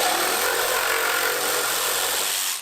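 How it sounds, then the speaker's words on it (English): A DeWalt 20V Atomic cordless reciprocating saw cuts through wood studded with nails, giving a continuous, loud buzzing rasp that holds steady before cutting off at the end. "I really like reciprocating saws because they're pretty much the only cut anything tool in the shop."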